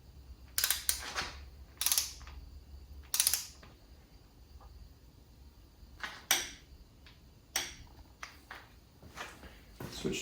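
A torque wrench tightening the side bolts on the main caps of an LQ4 engine during an LS build: a series of sharp mechanical clicks in short bursts, with quiet pauses between them, up close.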